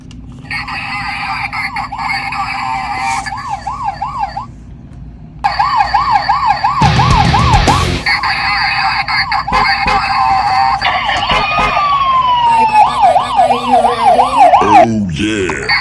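A toy police car interceptor plays an electronic siren: a steady warbling wail that repeats, stops briefly, then resumes louder with clicks and handling noise.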